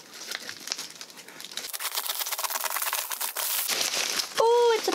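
A parcel package is cut open and unwrapped, with close crinkling, rustling and tearing of plastic and paper packaging building through the clip, ending with a brief tonal squeak.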